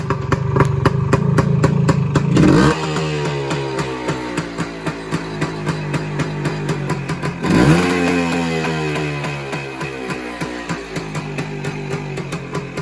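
A 1974 Suzuki RL250 trials motorcycle engine idles with a rapid clattering beat, revving up sharply twice before settling back to a steady putter.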